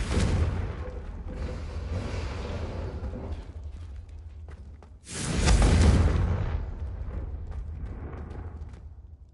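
A Confringo blasting spell goes off in Hogwarts Legacy: a roaring explosive blast fades into rumble, then a second, heavier boom hits midway and trails off into a long, loud rolling roar.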